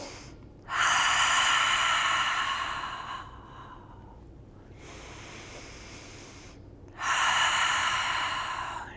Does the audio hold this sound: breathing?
yes